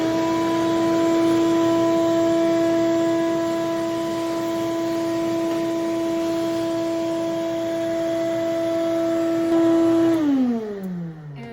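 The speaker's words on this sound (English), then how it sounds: "So using the vacuum is pretty self-explanatory." Shop vacuum cleaning up sawdust after cutting wood, a steady loud motor whine that holds an even pitch before powering down and winding off near the end, no talking.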